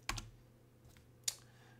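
Computer keyboard keys pressed in a terminal session, Alt combined with cursor arrow keys: a quick pair of close clicks, a faint tap, then one more sharp keystroke, all near and alone in a quiet room.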